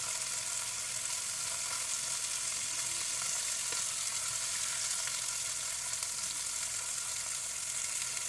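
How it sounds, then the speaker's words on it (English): Chicken skin browning in a hot pan for a Texan-style Mexican chicken soup, giving off a steady, dense sizzle and frying hiss that stays even and fairly close throughout, with no talking. "We're just simply giving it a light brown, sealing that skin."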